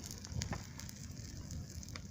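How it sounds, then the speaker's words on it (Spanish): A campfire burns outdoors on a riverside fishing trip at Ramallo, giving faint, scattered crackles and pops over a steady low rushing background. "Qué buena fogata"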